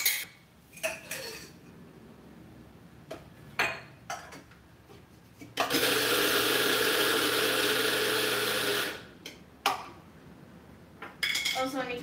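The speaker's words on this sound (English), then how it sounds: "I'm going to grind this peanut into peanut butter." Peanuts whir loudly in a grinder for about three seconds of steady, harsh buzzing as they become peanut butter, framed by clinks of dishes and utensils before and after.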